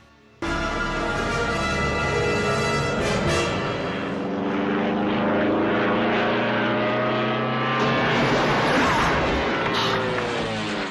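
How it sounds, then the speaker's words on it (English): A small propeller plane from Jaws 4 drones loudly and steadily as it flies low and sets down on water, the engine tone shifting through the approach with a rush of spray and wind rising near the end. "So they land the plane in the water"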